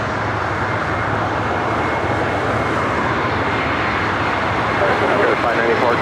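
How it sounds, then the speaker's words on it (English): A Delta Airlines Airbus A321 arriving at LAX from Minneapolis fills the air with a loud, continuous jet roar that holds steady and swells a little toward the end. "Next arrival, Delta Airlines flight 1446, coming in from Minneapolis in the"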